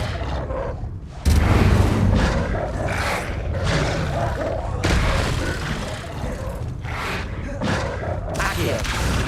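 Incendio fire spell cast repeatedly in Hogwarts Legacy on Xbox Series X, a loud roaring whoosh of flames with booming bursts that runs for several seconds.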